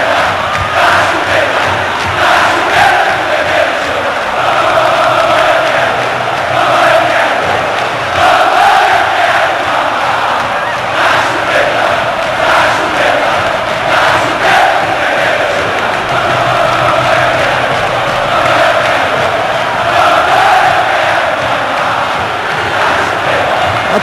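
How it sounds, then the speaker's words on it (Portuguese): Flamengo supporters fill the Maracanã during the 2008 Carioca championship final against Botafogo, a loud, dense crowd roar with rhythmic chanting that swells and pulses steadily throughout, without any clear individual voices. "E a torcida do Flamengo agora definitivamente toma conta do Maracanã."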